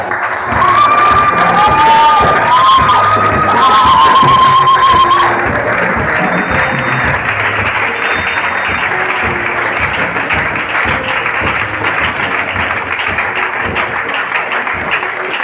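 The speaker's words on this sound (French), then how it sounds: "Nous restons debout et nous acclamons le Seigneur." A congregation at a church conference stands and applauds loudly, with cheering and high whistle-like shouts over sustained clapping that eases slightly toward the end.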